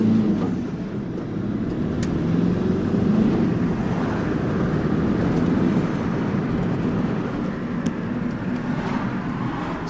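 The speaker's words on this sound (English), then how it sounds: "it's made the turbo noises much louder" A turbocharged Mazda MX5 with a cheap aftermarket air intake drones steadily while driving, a loud continuous engine and induction roar with rushing air and faint high whistles, no speech.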